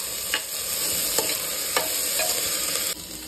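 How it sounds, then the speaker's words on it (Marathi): Onion and mixed vegetables sizzle steadily in a pan with a continuous frying hiss, broken by a few sharp scrapes and clinks of a spoon as they are stirred, all close up with no voices. "चला तर कांदा आणि भाज्या व्यवस्थित भाजलेल्या आहेत।"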